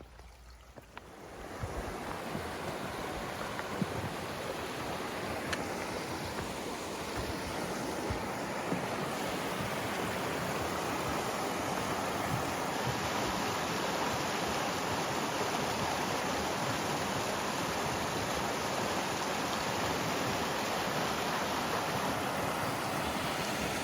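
Wide river bordered by rhododendrons, a broad continuous rushing flow that swells after the first couple of seconds and holds steady, with some wind buffeting the microphone.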